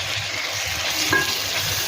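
Chopped gourd and tomato frying in a pan, a loud continuous sizzle with a soft stirring scrape partway through.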